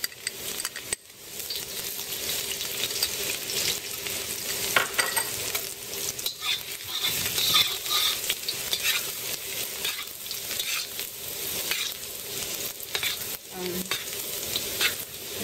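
Garlic sizzles and fries in a pan while being stirred, a steady crackling hiss broken by scraping and clinking strokes, close and continuous with no voices.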